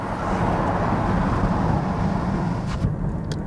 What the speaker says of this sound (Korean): 지나가는 차 소리, 뭐 옆 차 소리,